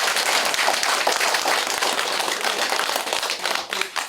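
Villagers in Yadong-ri, Eunha-myeon, Hongseong County give the county governor a loud, dense round of clapping that stays close and continuous for several seconds before easing off slightly.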